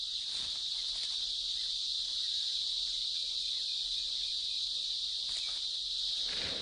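A steady, high-pitched chorus of cicadas in India buzzes continuously and loudly throughout, with no pauses and only slight shifts in intensity.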